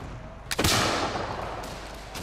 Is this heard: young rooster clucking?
no